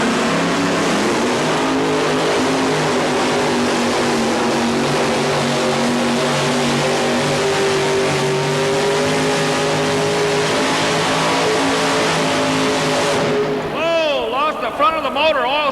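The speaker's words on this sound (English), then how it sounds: "The engines are torquing so much when they come down." Sprint cars race on a track in a steady, loud, layered engine roar, pitches rising and falling as they pass; near the end the sound drops and a single engine's pitch swoops up and down.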